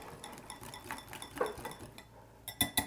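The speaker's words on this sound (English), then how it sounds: "I'm gonna whisk up the egg and the chocolate" A whisk clinks and taps against a bowl while beating egg and chocolate, making faint, irregular metallic ticks that end in a few sharper knocks.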